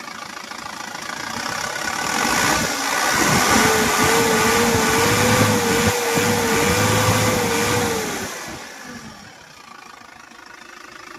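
A 2016 Isuzu Elf long truck's diesel engine idles, then is revved up and held at a higher pitch for several seconds before dropping back to a steady idle, heard close and loud with no talking.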